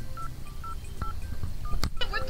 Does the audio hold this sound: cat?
no